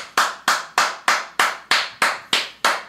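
Rhythmic hand clapping in a podcast studio: roughly ten sharp, evenly spaced claps in a steady beat, loud and close, with no talking.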